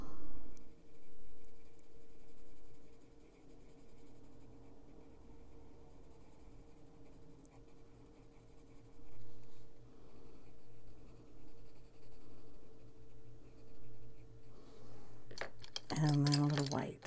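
A colored pencil scratches steadily across a paper coloring-book page in a soft, continuous rasp that comes in strokes, close and fairly quiet, with faint background hum and a brief clatter near the end.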